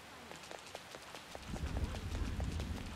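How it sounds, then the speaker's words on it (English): Steady rain patters in Persona 5 Royal, with soft, evenly spaced drip ticks over a hiss that thickens into a heavier low wash partway through. No voices. "Oh, Makoto's out here waiting in the rain."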